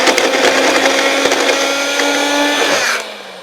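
A small blender crushes ice, a loud continuous whirring grind with rattling ice chunks for about three seconds before the motor cuts and winds down.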